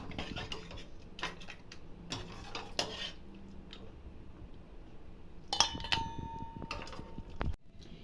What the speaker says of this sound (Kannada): ಕಾಲು ಸೂಪ್ ರೆಡಿ ಇವಾಗ ಬೋಲ್ಗೆ ಹಾಕಂತ ಇದ್ದೀನಿ